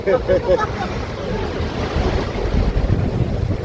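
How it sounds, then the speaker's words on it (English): Ocean swell rolling in and out along the Bruny Island coast, a steady broadband wash of waves heavily mixed with wind buffeting the microphone. "as the swell's moving in and out, the tip will open up, cabin will fill with air, and next wave comes through"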